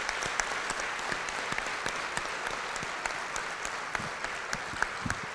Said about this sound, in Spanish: quisiera brindarles un aplauso a todos ellos